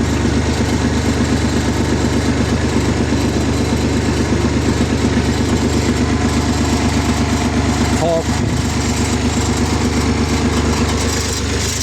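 A new AGRI GLOBE 4x4 254 tractor with a three-cylinder 35 hp engine idles close by, a loud, steady, low rhythmic chugging throughout, with someone speaking briefly over it.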